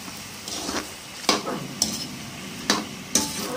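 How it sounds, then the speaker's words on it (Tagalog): Squid balls being stirred in a hot pan, with a spoon scraping and clanking against the metal in four or five distinct strokes over a steady background sizzle of frying. "Haluin natin ulit."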